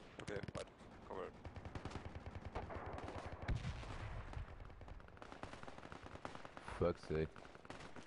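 Gunfire in the tactical shooter Project Reality on the Ramiel map: steady crackling shots and bursts running throughout, with shouted voices over the firing.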